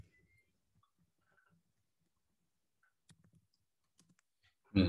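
A computer keyboard is typed on in a few sparse, faint clicks spread over several seconds of near silence, ending with a louder knock.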